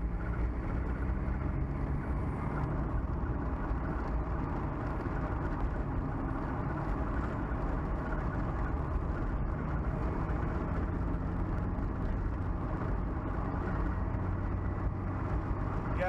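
A manual-transmission Mazda Miata autocross car drives along with its engine running, a dense, continuous low rumble mixed with road and wind noise heard from inside the cabin, steady throughout without clear talk.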